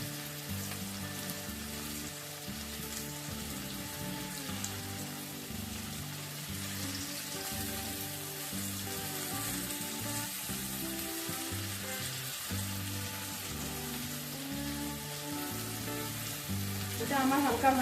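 Spices sizzling and frying in a hot pan on a gas stove, a continuous close crackle with stirring scrapes throughout, growing slightly louder at the end.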